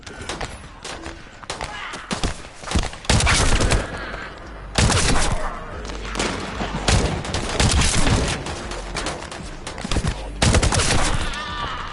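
Loud bursts of automatic gunfire from captured Vulgus enemy weapons in the video game The First Descendant. Rapid volleys come in several clusters over twelve seconds, with booming impacts between them.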